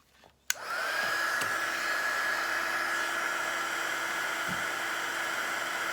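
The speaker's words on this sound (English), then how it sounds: "I'm going to heat this blob of glue up with my heat gun" A heat gun switches on with a click and ramps up to a steady, loud blowing whine as it heats a blob of hot glue, running continuously with a brief knock near the end.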